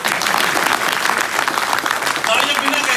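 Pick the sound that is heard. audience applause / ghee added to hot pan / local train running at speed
audience applause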